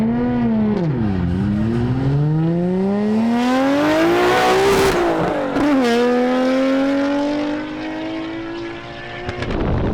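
A Nissan Skyline GT-R accelerating hard down a runway at a drag event, loud and close, its engine note sweeping upward through the gears with brief dips at shifts, fading slightly toward the end.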